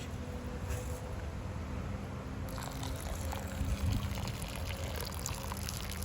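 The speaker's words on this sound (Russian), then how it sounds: "Теперь заливаем водой" Water poured over rice in a pot for plov, giving a steady, close trickling and splashing stream that keeps running throughout.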